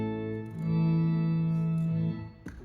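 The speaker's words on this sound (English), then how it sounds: "This one that kind of sounds like an organ" A guitar effects pedal produces an organ-like tone: a sustained, buzzy note with rich harmonics that swells, holds steady for over a second, then cuts off into a brief noisy scrape.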